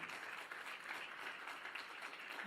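Sustained applause from a church congregation, a thick continuous patter of many clapping hands held at an even level throughout, without talk on top.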